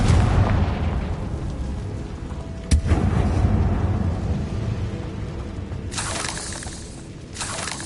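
A fire-blast spell explosion in Hogwarts Legacy, a booming blast with a sharp crack and shattering debris, rumbling loudly and then fading into lighter crackles and bursts.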